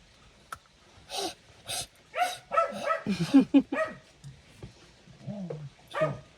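A dog barks in short sharp bursts, mixed with yips and whimpers, close by in a home during a play session with a toy, while someone speaks in between.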